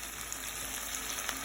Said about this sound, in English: the chicken should be looking kind of like this once it's brown, but I'm gonna lower the heat